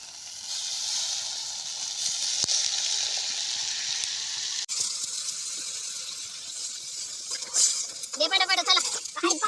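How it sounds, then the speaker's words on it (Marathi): Water poured into a hot wok of onions frying in oil for an outdoor farm-field Maggi noodle cook, a steady loud sizzle and hiss that ends in bubbling, sputtering bursts. "आता यात आपण पाणी ओतूया."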